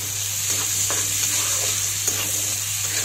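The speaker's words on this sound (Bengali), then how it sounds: "এই পেঁয়াজ খুব তাড়াতাড়ি ভাজা হয়ে যায়" Chopped spring onions fry for chicken egg fried rice, a constant close sizzle with light stirring taps and scrapes running throughout, no voices.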